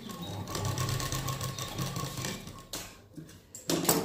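A sewing machine runs a steady stitching whir along the seam of a prince-cut blouse for nearly three seconds, then stops, followed by brief handling noises and a short restart, close up with no talking.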